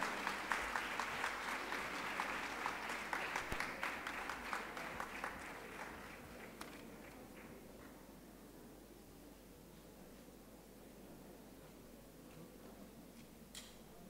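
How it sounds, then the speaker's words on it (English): Audience applause at a formal ceremony in Singapore as Dr. A.P.J. Abdul Kalam is escorted to the stage for a school's 10-year celebration logo launch. Dense clapping fills the first six seconds, then thins and fades into a quiet hall. "Can we have a huge round of applause,"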